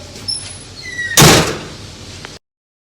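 A single loud door bang lands about a second in, a sharp slam with a short ringing decay, set against low room noise with a few faint high whistling tones before it.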